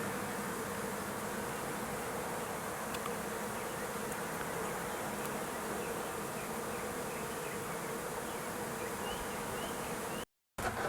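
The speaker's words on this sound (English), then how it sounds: "It looks like the bees are swarming over there." A dense, continuous buzzing of many bees fills the air, steady and unbroken, with no voices present.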